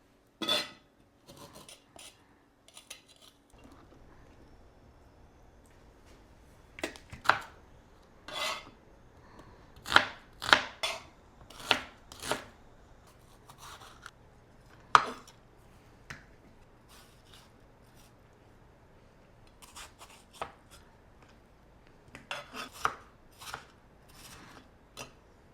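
A knife chops garlic, ginger and tomato on a cutting board for a salmon curry, giving sharp, irregular knife strikes in short bursts with pauses between them, close up in a quiet kitchen.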